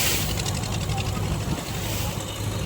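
Boat engine running steadily while crossing the sea at dawn, a continuous low drone with rushing wind and water noise, fairly close, with faint voices underneath.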